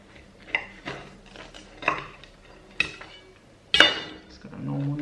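A normal table knife saws through a frozen pizza on a hard plate, giving a handful of sharp, close clacks and scrapes at irregular intervals, with a louder knock near the end and a brief hum of background noise.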